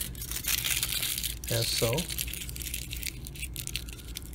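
Aluminum foil is lightly crumpled by hand, making a steady crinkling rustle throughout while a person speaks briefly over it.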